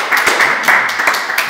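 A small audience clapping at a cannabis matinée event, rapid close claps in a brief burst with no talking.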